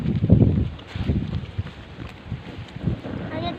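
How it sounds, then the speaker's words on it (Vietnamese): Gusty wind blowing across the microphone at an outdoor family picnic with a cooking fire, a steady low rumble and buffeting throughout, close and fairly loud. "Tại gió thôi, không phải tại lửa đâu."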